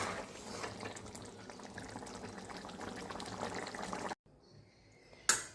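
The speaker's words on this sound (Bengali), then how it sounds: "সবজিগুলোর মধ্যে জল দিয়ে মাছ দিয়ে 10 মিনিট ভালো করে ফুটিয়ে নিলাম।" A pot of fish curry with vegetables bubbles in water, a soft continuous simmering hiss and burble heard up close and quietly, cutting out briefly near the end before a short louder rush returns.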